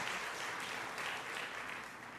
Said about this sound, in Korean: 일어나시면 박수로 환영하겠습니다